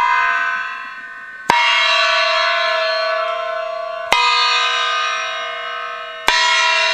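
A Yamaha CS-10 synthesizer fed through its external input gives three sharp-attacked, bell-like tones. Each rings and slowly fades before the next strikes, with no talking.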